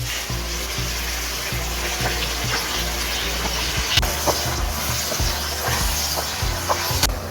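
Onion paste hits a hot pan and sizzles steadily, a continuous frying hiss with low bubbling and occasional sharp clicks and clinks of a utensil against the pan.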